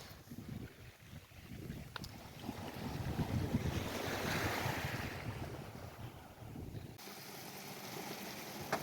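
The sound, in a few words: sea waves on the shore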